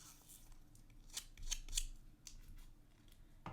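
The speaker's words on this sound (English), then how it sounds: "I'm going to bend the corner, and I'm just going to run my scissors by it" Scissors scrape along the bent corner of a photo in a junk journal, giving a few quiet, quick rasping strokes close by against a soft background.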